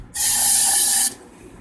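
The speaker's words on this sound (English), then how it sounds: "I'm going to spray out my muffler with some carb cleaner." A single close, loud burst of aerosol carb cleaner sprays into the muffler of an Echo PB-2100 leaf blower, a steady hiss lasting about a second before cutting off sharply.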